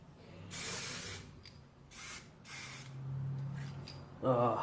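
An aerosol can sprays paint onto a masked-off rim lock in several short hissing bursts of about half a second each, close and fairly loud, separated by quiet pauses, with a louder rattle or hiss at the very end.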